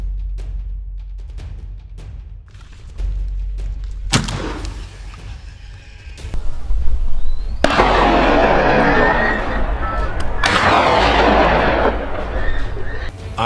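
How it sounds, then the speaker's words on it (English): Gunshots fired repeatedly at a wild boar during a hunt. Sharp, loud reports come in a close run, with heavy rumbling and crackling noise in the middle, and faint talk underneath. "Quickly regaining focus, I pulled the trigger repeatedly"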